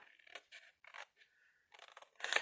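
Scissors cutting straight through box material, a series of close, crisp snips and slicing strokes in quick bursts with short pauses between them.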